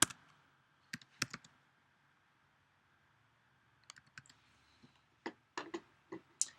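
Keys clicking on a computer keyboard during data entry, in short scattered bursts of taps separated by quiet pauses, fairly faint and with no voices.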